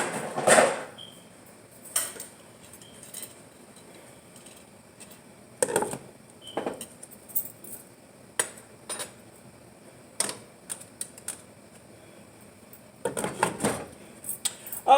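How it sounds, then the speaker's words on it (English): Metal pot lid clanks and cookware knocks in a home kitchen while preparing a seafood curry with crab legs, lobster claws and shrimp; several sharp, separate clinks spaced out over quiet background. "Then I'm going to put the cover on."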